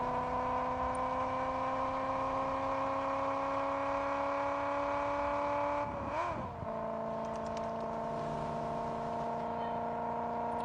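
Steady synthetic car engine drone in the Car Parking mobile game, holding an even pitch with layered harmonics, then briefly wavering and dipping near the middle before settling back into a slightly lower hum; no voices.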